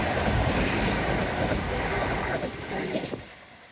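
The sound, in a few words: train passing along the Dawlish seawall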